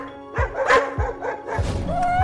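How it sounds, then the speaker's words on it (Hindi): Cartoon dogs bark near a house in an animated scene, with several sharp yips and barks coming in quick bursts over a faint background music bed. "अरे ये कुत्ते हमारे घर के पास आकर क्यों भौंकने लगे?"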